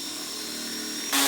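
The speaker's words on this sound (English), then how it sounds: "drill into that board" A power drill bores into a wooden board for a homemade slide board, a steady high whine that rises sharply louder near the end as the bit engages, close up with no talk.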